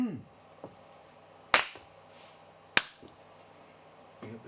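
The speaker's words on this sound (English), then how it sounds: "Clap your hands. Keep clapping." Two loud, sharp hand claps ring out in a studio sound check, a second or so apart, close and reverberant, with faint voices and low background noise between them.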